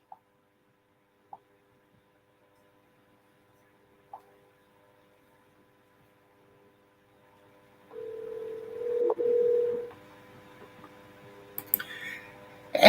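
Telephone call being placed: a few faint isolated clicks, then a steady dial or ring tone for about two seconds, followed by scattered beeps and noises, fairly quiet with no talking.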